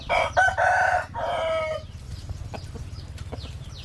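A rooster crows loudly nearby in a long drawn-out call, followed by softer clucking and scattered chicken sounds over a low background hum.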